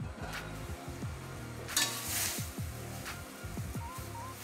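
Vegetables frying in oil in a pan, a steady sizzle running throughout with occasional stirring clinks and scrapes, fairly close and continuous.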